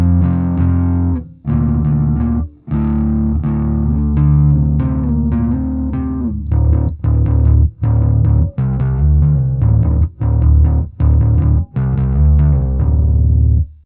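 An electric bass through a ToneX amp model based on the Ampeg SVT 2 Pro plays a steady groove of thick, low notes with a slightly gritty amp tone, played alone and up close with brief pauses between phrases.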